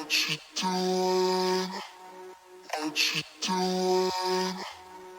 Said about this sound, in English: And then I added these vocal chops from Arcade.